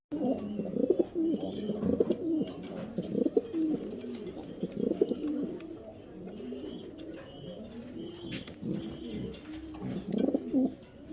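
A pair of racing pigeons, a red checker male and a black checker female, coo close by in a steady stream of soft, throaty calls with brief chirps and light rustling, no speech.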